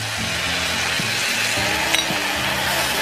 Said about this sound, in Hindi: अब हम डाल रहे हैं स्टॉक जो हमने अभी बनाया